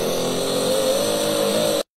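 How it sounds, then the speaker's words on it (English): Toyota Supra engine from the racing game Forza Horizon, a loud, sustained steady drone held at high revs for nearly two seconds, then cut off abruptly into silence. "this is a Supra from Forza Horizon"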